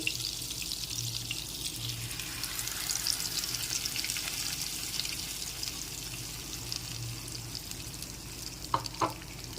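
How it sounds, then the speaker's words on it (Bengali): Masala paste fries in melted butter in a pan for shahi paneer, a soft, steady sizzle with gentle stirring and a couple of sharper scrapes near the end. "এখন একটু ভালো করে নেড়েচেড়ে নিচ্ছি"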